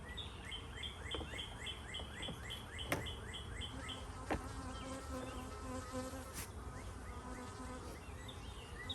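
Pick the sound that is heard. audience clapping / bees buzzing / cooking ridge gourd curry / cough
bees buzzing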